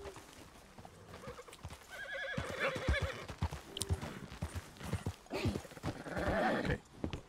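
A Tennessee Walker horse in the video game Red Dead Redemption 2 lets out loud whinnies and snorts over clip-clopping hooves, with several bursts close by and no talking.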